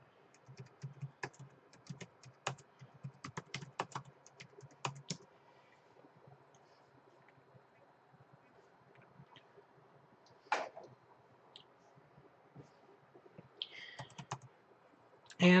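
Passphrase typed on a computer keyboard during a live coding session, sounding as soft, scattered key clicks in short bursts, faint and close, with quieter gaps and a louder cluster of keystrokes near the end.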